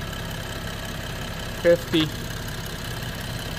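A healthy BMW 3.0L engine idles steadily, a faint, even low hum running throughout while someone speaks briefly over it.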